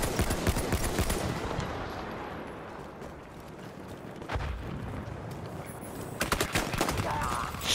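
Rapid pistol gunfire in the Battlefield 1 open beta, with bursts of sharp shots crackling through a dense battlefield din of distant fire and rumble, and a player talking over it.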